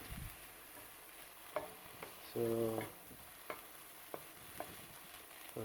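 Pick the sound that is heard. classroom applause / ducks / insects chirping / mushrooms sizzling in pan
mushrooms sizzling in pan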